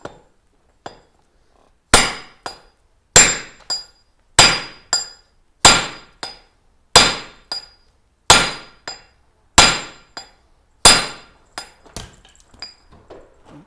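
Hammer striking hot metal at a gas forge: about ten loud, ringing metallic blows in a steady rhythm, each followed by a lighter rebound tap, close up, with a few lighter clinks at the end and no talk.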